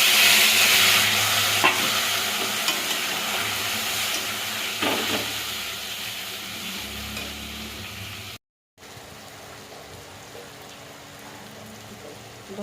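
Spice-coated lote fish (Bombay duck) frying in a pan, a loud continuous hiss and crackle with occasional stirring clatter, close up, dropping to a moment of silence before the sizzle resumes.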